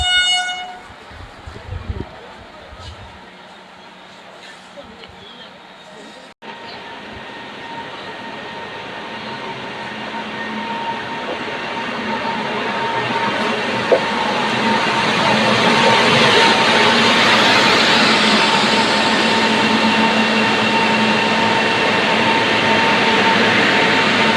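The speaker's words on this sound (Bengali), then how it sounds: "ওই একটা ট্রেন আসছে" A Jan Shatabdi Express train, number 12022 on the Ghatshila–Howrah run, arrives at a station: a low rumble swells into a loud, steady roar with sustained horn-like tones and no talk.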